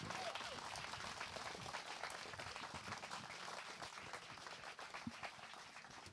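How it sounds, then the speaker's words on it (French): Applause from an audience greeting a speaker before a conference at a summer university event, continuous and fairly dense but heard faintly from a distance for about six seconds, with no one speaking. "Je vous demande un tonnerre d'applaudissements pour Jean-Yves Le Gallou"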